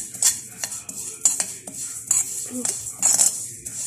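Sesame seeds scraped and stirred in a warming pan for homemade sesame and peanut tahini, giving close, irregular scrapes and light clinks of a utensil against the pan, with no talking.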